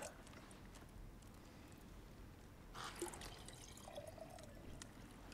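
In God of War Ragnarok, a drink is poured into a cup, a quiet trickling stream that swells briefly midway over a low background hum.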